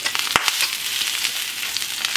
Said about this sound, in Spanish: tengo aquí mi comal calentando con un poco de aceite. Voy a agregar jitomate, cebolla, 2 dientes de ajo